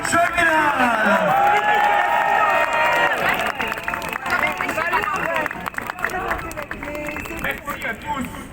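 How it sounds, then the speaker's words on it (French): Rally crowd at a no-to-war demonstration applauding and cheering for Jacques Cheminade, a loud, dense wash of clapping and voices that fades slightly over several seconds. "Je vous prie de faire un tonnerre d'applaudissements pour Jacques Cheminade."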